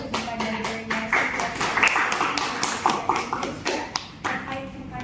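Applause for delegates at a model ASEAN summit meeting, a modest room of people clapping in uneven bursts that thin out and pick up again over five seconds.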